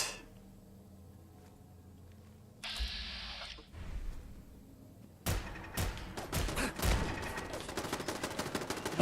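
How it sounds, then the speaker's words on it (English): Gunfire in the video game Fallout London, after a quiet stretch and a brief hiss, a rapid series of sharp shots and bursts that grows denser and louder toward the end. "That's a lot of guns."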